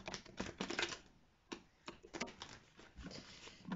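Angel tarot cards being shuffled by hand in a quiet room, giving a run of close, crisp papery riffles and flicks in uneven bursts with brief pauses, no talking.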